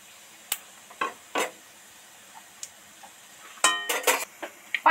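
Panch phoron, dry chillies and bay leaves stir in hot oil, a faint sizzle punctuated by sparse metallic spoon scrapes and clinks, busier toward the end.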